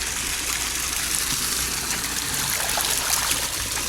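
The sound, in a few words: stream of water trickling on Nami Island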